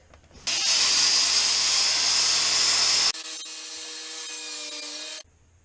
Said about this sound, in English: There's the countertop cut out.